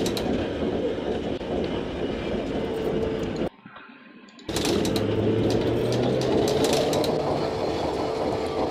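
Tram running through Brno in the OMSI 2 simulator, a loud steady rolling rumble with rail clatter and a low motor whine, broken by a brief quiet gap before the running noise resumes.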